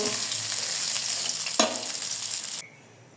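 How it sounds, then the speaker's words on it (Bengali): Rohu fish pieces rubbed with salt and turmeric sizzle loudly in hot oil, a steady crackling hiss with one brief clatter midway, then the sound cuts off abruptly near the end. "মাছ ভেজে নিচে তুলে নিব"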